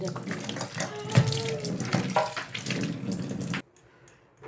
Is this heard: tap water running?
yes